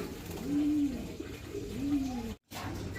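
Imported pigeons in a cage give two drawn-out, low cooing calls over quiet background noise, with a short sharp dropout near the end.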